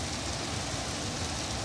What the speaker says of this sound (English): It's raining harder now. You can hear it.